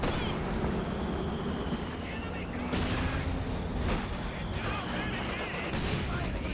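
Maxim machine gun firing in Company of Heroes 2, a steady dense clatter of automatic fire and battle noise running the whole way, with sharper bursts breaking through and a commentator talking over it.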